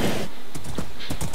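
Rapid clip-clop of a white horse's hooves in the Minecraft WynnCraft game, a steady, close galloping rhythm with no talk over it.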